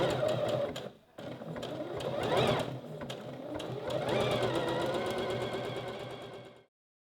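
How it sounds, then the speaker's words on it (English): A sewing machine sews a 3-step zigzag stitch onto stretched bra elastic, a steady rapid needle chatter close up that pauses briefly near the start, then runs on before stopping. "sew using exactly the same 3-step zigzag stitch, the same method as we did before, by stretching the elastic to the length of the fabric."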